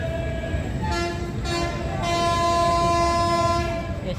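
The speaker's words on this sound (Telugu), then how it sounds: "రెండు స్మాల్ హారన్స్ కొట్టి ఒక లాంగ్ హారన్ కొట్టారంటే చైన్ పుల్లింగ్ అనే సిగ్నల్ అనమాట." Godavari Express locomotive horn sounds the chain-pulling signal: two short toots followed by one long, loud, sustained blast, heard over the hum of the stopped train.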